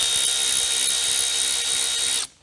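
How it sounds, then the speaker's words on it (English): A 7mm ratchet loosening a worm gear clamp under the hood of a 2012 Ford Focus, a steady buzzing whir close by that runs for about two seconds before stopping abruptly. "It's kind of hard to get to, so I would just use a ratchet, 7mm."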